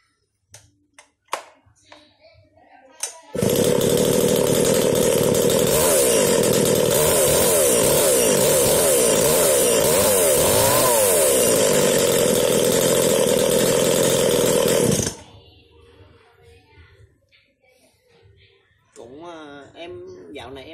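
A Japanese-made Hitachi 32.3cc chainsaw, running on its original oil, which is running low, roars at a loud, steady pitch for about twelve seconds with slight revving wobbles, then cuts off. Brief knocks and handling noises come before it, and a voice talks after it stops.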